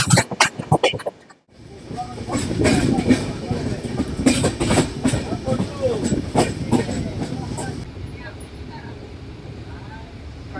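A long-distance passenger train on the Kolkata to Kamakhya route rumbles steadily along the rails with rhythmic wheel clatter, heard from inside the carriage, after a brief burst of nearby voices at the start.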